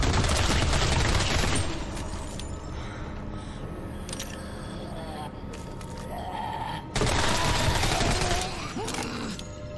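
Rapid gunfire in the video game Sidecar: Deathly Stillness, a dense volley of shots filling the opening seconds, then more bursts near the end over steady game noise, with a voice speaking at times.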